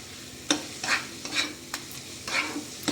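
A spoon stirs a spice masala with turmeric and ground coriander in a sizzling frying pan for potato dum, giving a few distinct scraping strokes over a low, steady fry.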